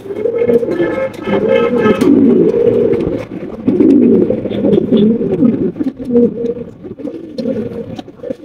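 Domestic pigeons, including an almond-colored fancy bird, coo repeatedly in low, rolling phrases, close and fairly loud, with a few sharper sounds and faint background noise between calls.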